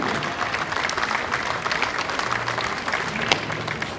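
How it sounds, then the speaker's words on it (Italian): A crowd applauds steadily at a judo and kata show, dense clapping continuing throughout at moderate distance. "Grandissimo applauso alle due Giulie, brave."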